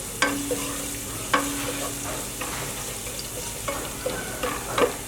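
Crushed garlic with white cumin sautés in a pan of oil for kadhi pakora, a soft steady sizzle broken by several distinct scrapes and clinks of a spoon stirring, fairly quiet and with no talking.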